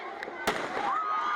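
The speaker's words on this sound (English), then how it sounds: "fireworks crackled through the night skies at midnight as revelers celebrated the first moment of 2014" Fireworks crack and pop over Kampala, Uganda, at midnight on New Year, with a sharp close bang and a fainter earlier burst against a steady background hum of the celebrating crowd.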